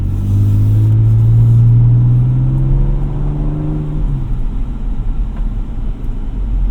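The engine of a 2025 Ford Ranger Raptor pickup revs loudly and steadily in off-road mode, a deep throaty roar that rises in pitch and then eases back, close and with no talk.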